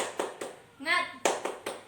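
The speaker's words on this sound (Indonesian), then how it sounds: "Sekarang kita tepuk semangat terlebih dahulu ya anak-anak." Schoolchildren in an elementary classroom perform a rhythmic spirit clap, sharp claps in a steady pattern with a brief burst of children chanting in the middle, fairly close and moderately loud.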